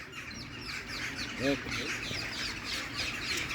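Birds chirping outdoors in snow at night, scattered small tweets and calls over a steady noisy background, with a person talking briefly nearby.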